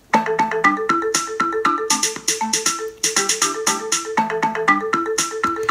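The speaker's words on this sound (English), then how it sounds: "pentatonic, which sounds like this." A bright electronic pentatonic melody from Chrome Music Lab's song maker plays in quick, evenly spaced notes with layered chime-like tones, loud and close with no voice.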